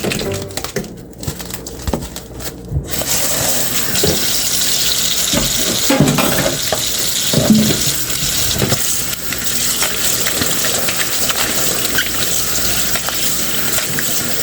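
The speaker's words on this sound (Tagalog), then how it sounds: "Hugasan natin yung isda." Fish being washed under a running kitchen tap, a steady loud rush of water with splashing and handling noises, close by with no one speaking.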